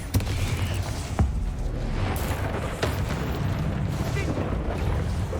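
Explosive Bombarda spell blasts during combat in Hogwarts Legacy, sharp booming bursts hitting at irregular intervals over a dense, rumbling battle din, loud and close.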